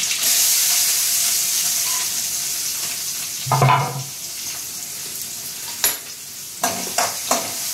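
Spinach tempered in a hot pan with dried chili, a green chili and onion, a steady sizzle with a louder burst as ingredients drop in, then scattered stirring knocks close by, no talking.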